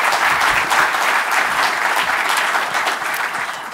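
Sustained clapping from an audience at a party conference, dense and steady throughout, slowly tapering slightly toward the end.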